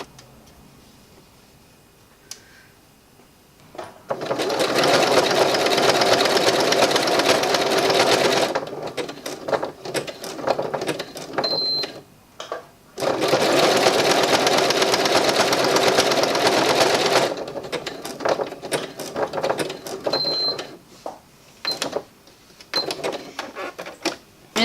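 A sewing machine stitches through felt, making a felt poppy, in two long loud bursts of fast mechanical whirring and needle chatter, separated and followed by quieter ticks, clicks and short stitching spurts.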